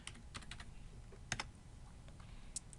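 Rapid keystrokes on a computer keyboard as Excel filter criteria are typed, a steady run of close, crisp clicks in irregular bursts with no talking.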